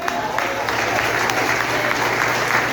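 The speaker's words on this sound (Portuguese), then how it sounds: "Vamos reverenciar Ele aplaudindo." Church congregation at a family worship service applauds in reverence, dense continuous clapping from a large crowd filling the room at steady loudness.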